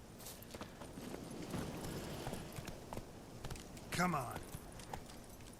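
Horse hooves clip-clop at a steady walking pace in the video game The Witcher 3, quiet and mixed with game ambience, as a voice speaks briefly over them.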